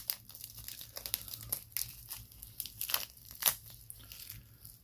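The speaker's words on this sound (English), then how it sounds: "let's unwrap this bad boy." Packaging for an Invicta Reserve Kraken 36612 meteorite automatic watch is unwrapped close up, giving irregular crinkling, crunching and tearing rustles in quick successive bursts with no talk.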